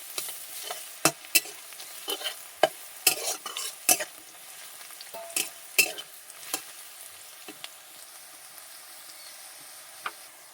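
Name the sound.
garlic and ginger frying in oil with onions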